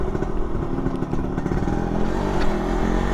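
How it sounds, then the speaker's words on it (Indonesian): A Suzuki Satria RU 120 (Satria Lumba) motorcycle engine runs up close with a busy mechanical clatter and a buzzing mid-pitched tone that rises slightly as it revs. "gue mau test ride nih si motor Satria Lumba atau Suzuki Satria RU ya guys"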